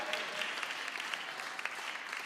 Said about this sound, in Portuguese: Se você crê, aplauda ao Senhor.